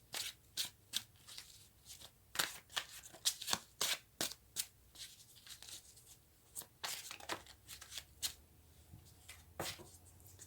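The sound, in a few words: shuffling tarot cards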